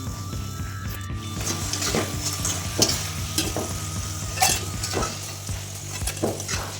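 French fries deep-frying until crispy bubble and crackle steadily in hot oil, close and continuous, with repeated scraping and clinking from a utensil moving them through the pan.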